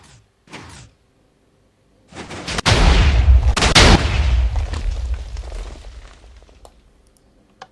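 A semi-automatic TNT cannon fires in a video game: a faint click, then a loud booming blast with a second sharp crack, followed by a long rumbling decay that fades over several seconds.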